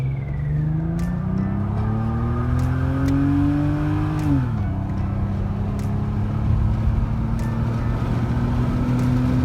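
A brown, all-original Toyota Crown VIP car at a car event accelerates hard, its engine note climbing steadily before a gear change drops the revs midway and the pull resumes, close and loud with no talking.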